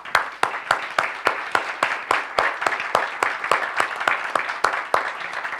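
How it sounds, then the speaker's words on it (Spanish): An audience gives hearty applause to thank participants at a social actors' dialogue event, a dense, steady round of clapping with sharp repeated claps near the front, continuing throughout. "les pediría a todos ustedes que los despidiéramos a ellos con un fuerte aplauso"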